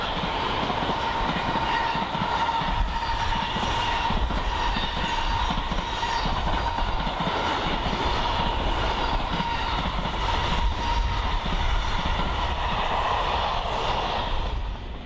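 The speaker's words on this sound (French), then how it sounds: "Une BB 16500 avec des voitures de banlieue est en vue." An SNCF BB 16500 electric locomotive hauling suburban coaches rumbles past at a steady, loud level, with continuous rolling rail noise and rhythmic wheel clatter that holds throughout without pauses.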